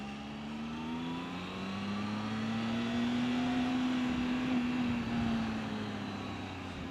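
Motorcycle cruising on a road, its engine a steady low drone that swells slightly in pitch and loudness before settling, with faint wind rush and no talking.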